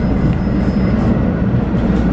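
Riding aboard a westbound RTD G Line commuter train: a steady, loud low rumble of wheels and car body with a faint whine, continuous throughout.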